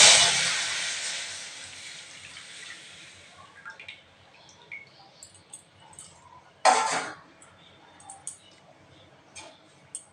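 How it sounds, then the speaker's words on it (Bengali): Wood apple (bel) juice poured into a very hot wok gives a loud sizzling hiss that fades over a couple of seconds into faint bubbling and ticks, then flares once more in a second brief sizzle; no talking. "কড়াটা খুব ভালো মতো গরম হয়ে গেছে। এর মধ্যে দিয়ে দিচ্ছি বেলের রসটা।"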